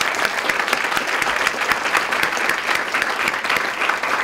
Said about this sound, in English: can we give them another round of applause for everybody?